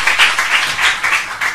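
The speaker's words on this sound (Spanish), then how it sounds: "Oye, un aplauso, es una excelente telépata." An audience at a Spanish-language magic show applauds a volunteer after a mentalism trick, a short round of clapping that pulses in quick, uneven waves, fairly close and loud, with no talking over it.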